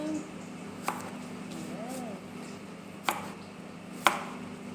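A knife cuts carrots on a board in three or four separate sharp chops, close by and quiet, with a steady background hum.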